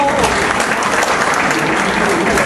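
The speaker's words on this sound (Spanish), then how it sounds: "Aplausos por favor para ellos." Loud, dense audience applause for performers being introduced at a freestyle group event, a steady wash of many hands clapping continuously and close.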